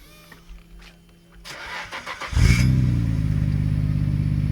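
Nissan R32 Skyline GT-R with a large stock muffler, cranking briefly and then catching into a loud, steady idle rumble that stays fairly subdued.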